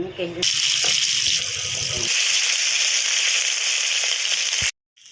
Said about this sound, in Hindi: माँ ए कड़ाई बस देइछंती, तेल ढाली देइछंती।